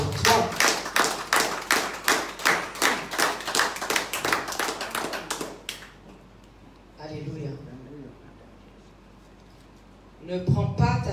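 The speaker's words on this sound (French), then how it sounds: "Applaudissez pour vous-même." A church congregation claps together in a steady, loud rhythm during a Sunday service, the claps breaking off around halfway, followed by speech.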